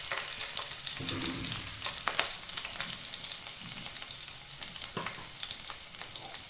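Garlic, ginger and green chilies fry in hot oil with a steady, close sizzle, broken by occasional sharp spatters and stirring scrapes, and no talking.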